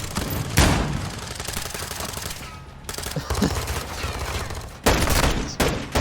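Rapid bursts of gunfire from a Call of Duty esports match, loud rattling volleys interrupted by several sharp louder shots under continuous game noise.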